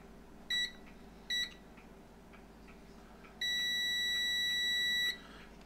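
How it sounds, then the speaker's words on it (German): A beeper on a DIY serial-to-USB circuit board sounds two short, clear beeps followed by one long sustained tone, all thin and electronic against a quiet room hum. "Der sollte piepsen."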